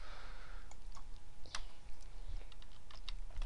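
Someone types and clicks on a computer keyboard while working in an Excel spreadsheet, a quiet, irregular patter of close keystrokes and clicks with no talking.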